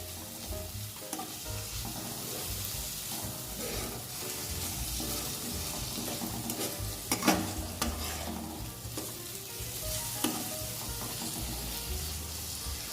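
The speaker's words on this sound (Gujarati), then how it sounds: "હવે તેને સારી રીતે મિક્સ કરી લેશું।" Steady sizzling in a pan with scraping strokes as a thick spiced raw banana mixture is stirred, close and continuous, no voices.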